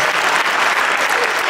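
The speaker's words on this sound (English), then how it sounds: "Another round of applause." Loud, dense audience applause fills the hall at a jazz tribute concert, continuous and close throughout.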